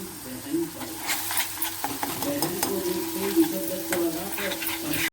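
A spoon stirs masala gravy frying in a pan with onion and garlic-cumin paste, continuous sizzling with scraping strokes up close, a voice talking over it.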